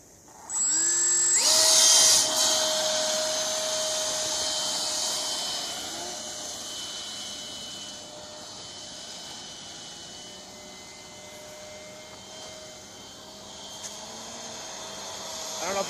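Freewing F9F Panther electric RC jet spooling up for a hand launch with no wind, a loud rising ducted-fan whine that holds steady and then slowly fades as it flies away.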